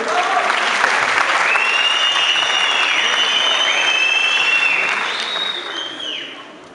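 Loud, sustained applause from an audience at a youth, arts and national unity event in Erzurum, a dense wash of clapping that holds steady for several seconds, with whistling tones running over it, then tapers slightly near the end.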